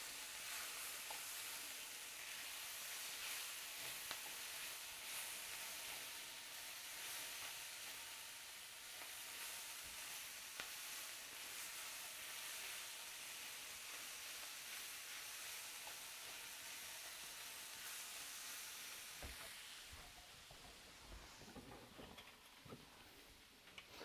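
Garlic sizzles in a hot pan while being stirred, a steady close frying hiss with occasional scrapes, running alone without talk until a brief clatter near the end.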